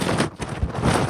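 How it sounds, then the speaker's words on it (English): Strong wind gusts across a cold beach, a steady broadband roar buffeting the microphone, loud and close with brief dips, no talking. "The wind is crazy."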